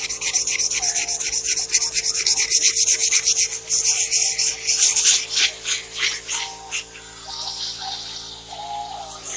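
Steady, raspy sanding strokes rub back and forth close up over Bondo body filler on a body piece, a continuous abrasive scrubbing with a quicker rhythm toward the end, no talking.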